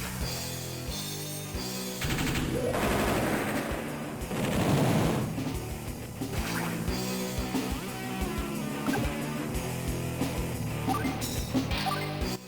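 Artillery firing in the Advance Wars video game, heard as a dense run of game blasts and rapid gunfire-like bursts over a steady music bed, loud and continuous throughout.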